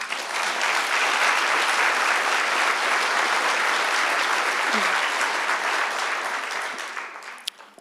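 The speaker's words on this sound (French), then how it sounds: "Je pense qu'on peut les applaudir." A church congregation at a Sunday service breaks into sustained applause, a dense, steady clatter of many hands that holds for several seconds and then thins out and fades near the end.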